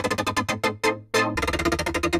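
A synthesized sweeping effect from Shaperbox 3 macro knob automation, with stuttering, rhythmic LFO filter bursts that shift in tone, briefly cutting out before resuming as a denser pulsing pattern.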